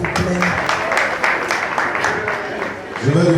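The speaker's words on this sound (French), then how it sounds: "On peut les applaudir s'il vous plaît." Audience applause at a trumpet competition's quarter-final awards, steady clapping filling the room with a voice speaking over the top partway through.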